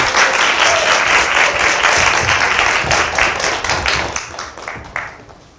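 An audience applauds loudly and steadily to welcome the CEO of the Korean restaurant chain School Food onto a stage, with dense clapping that thins out and fades toward the end.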